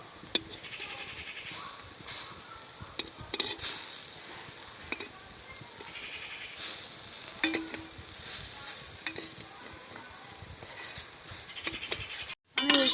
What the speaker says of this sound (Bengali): আমি উল্টে পাল্টে ভালো করে বড়িগুলো ভেজে নিয়েছি